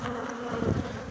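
Honeybees crowded thickly on a sealed brood frame from a hive make a close, dense, steady buzzing drone.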